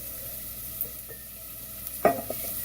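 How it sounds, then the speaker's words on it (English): Diced onions drop into a pot of hot oil, a faint steady sizzle with a few light utensil clinks and one louder stir scrape near the end, with no talking. "So adding my diced onions to the pot."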